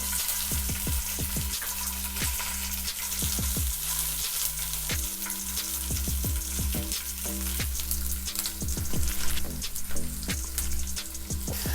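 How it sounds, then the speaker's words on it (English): Garlic and red capsicum sauté in hot olive oil with a steady, close crackling sizzle, punctuated by repeated scraping stirs of a utensil against the pan. "we have used olive oil and we have added garlic to it. So we are going to saute it"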